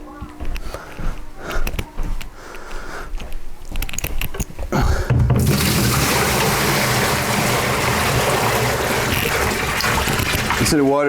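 Aquarium water runs into a bucket during a freshwater tank water change; after muffled handling noises a steady loud gushing stream fills the bucket close by.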